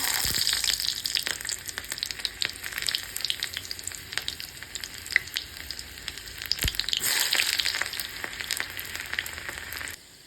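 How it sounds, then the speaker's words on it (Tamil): Mustard seeds and small shallots frying in hot coconut oil, a loud continuous crackle and hiss with bursts of popping and occasional stirring, close and without voices, cut off sharply at the end. "தேங்காய் எண்ணெய் நல்லா சுட்டுருச்சு. ஸோ கடுகு போட்டேன். கூடவே சின்ன வெங்காயம் ஆட் பண்ணிக்கலாம்."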